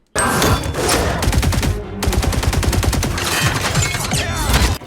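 Sustained automatic gunfire from the video game Mortal Kombat 11 blasts in rapid, loud fusillades. A brief pause comes near the two-second mark before heavy firing resumes and continues to the end.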